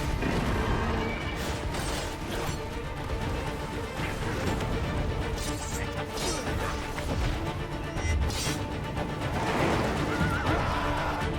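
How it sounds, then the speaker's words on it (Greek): A horse neighs in a video game, set against a constant wall of game audio with crashing impacts and hoofbeats running throughout. "Λίγο cringe το άλογο."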